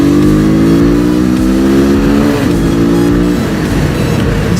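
Motorcycle engine revving loudly and steadily as the rider flicks the throttle for a clutchless shift in second gear, pitch holding then dipping slightly near the end.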